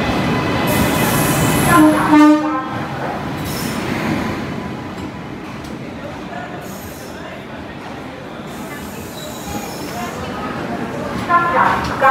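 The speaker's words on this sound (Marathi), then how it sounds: "तर आता आपली ट्रेन आली आहे." A train rumbles into a station with a loud horn blast and squealing wheels, surrounded by the hum of voices on the platform.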